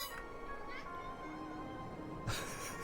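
A cat meows softly indoors, a couple of faint short calls near the start and a louder one toward the end, over a quiet steady background hum.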